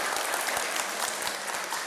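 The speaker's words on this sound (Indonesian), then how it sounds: "Tepuk tangan dulu." An audience at a talk applauds in a steady, dense burst of clapping that lasts the whole moment, with no voices over it.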